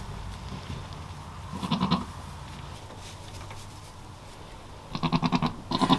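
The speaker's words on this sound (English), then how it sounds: "So of course I'm in goat heaven right now with these little babies" Baby goats bleating in short wavering cries, one near the start of the second half and two more close together toward the end, near and moderately loud over quiet background noise.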